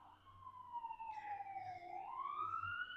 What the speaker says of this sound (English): I live near a hospital, so you're going to be hearing ambulance and all of those things